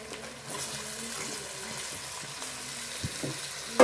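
Tomatoes and salt fry in a pan for a Tamil fish curry, a soft, continuous sizzle with a few faint clinks of stirring, heard up close and alone.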